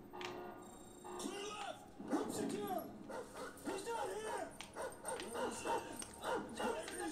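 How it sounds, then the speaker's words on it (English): A dog barks and whimpers in the Call of Duty: Ghosts video game, giving repeated yips and short cries close up, while a player talks over the game sounds. "I don't want to hurt the dog."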